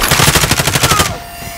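Rapid burst of aircraft cannon fire from close air support in Call of Duty: Modern Warfare, a loud, fast stream of evenly spaced shots lasting about a second before cutting to a fading whine and hiss.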